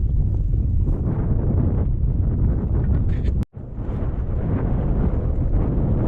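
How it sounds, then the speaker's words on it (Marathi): Strong wind at sea buffets the microphone in a loud, continuous rumbling roar, with a brief dropout near the middle before the gusting resumes. "अचानक वारा जाम चालू झालाय"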